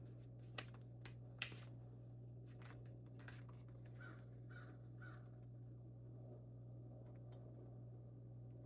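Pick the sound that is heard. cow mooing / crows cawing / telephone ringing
crows cawing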